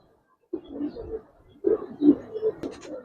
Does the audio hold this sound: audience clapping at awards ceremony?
no